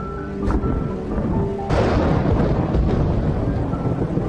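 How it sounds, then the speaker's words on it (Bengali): A thunder sound effect in a narrated audio story starts with a short crack, then breaks into a loud, sustained, rumbling roar that rolls on for several seconds without any voices. "হঠাৎ প্রচন্ড বজ্রপাতের ডঙ্কা বাজিয়ে ঝমঝম করে বৃষ্টি নেমে এলো"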